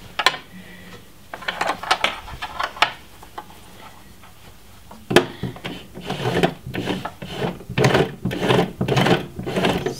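An overlocker stitching ribbing onto a raglan top, running in short mechanical bursts of rapid clattering, close up, with pauses between runs and a longer steady stretch toward the end.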